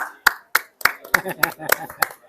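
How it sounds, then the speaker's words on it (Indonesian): One person claps, about seven sharp, close handclaps in a steady rhythm, with a voice talking underneath. "Boleh tepuk tangan."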